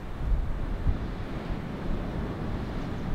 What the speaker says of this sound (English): The wind was blowing pretty hard along Powderface Trail